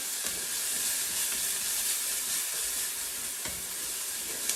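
Onions browning in a pan for a vegetarian red sauce give a steady, close sizzle and hiss that runs without a break, with a few faint clicks and no talking.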